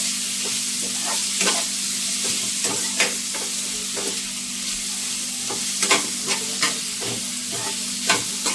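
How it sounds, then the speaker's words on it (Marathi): Prawns that were boiled first are frying in a pan for prawn chili, giving a steady close sizzle with scattered sharp crackles and pops throughout and no talking. "याला मस्त फ्राय करून घ्यायचं तरी आपण जी कोळंबी उकडून घेतलेली आहे"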